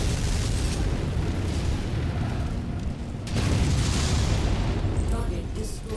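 An enemy mech is destroyed in a MechWarrior battle, giving a sustained, loud rumbling explosion with dense low roar and a second swell midway, heard alone without talk.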